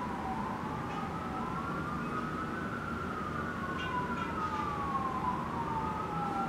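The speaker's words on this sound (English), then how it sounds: "Oh my God, these freaking sirens." A police siren wails continuously at a moderate distance, its pitch slowly rising and falling over a steady low background hum.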